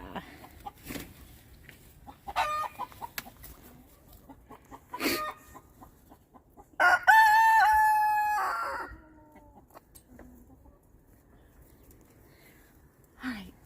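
Several chickens cluck softly in the background while a rooster crows loudly once partway through, with occasional rustling nearby.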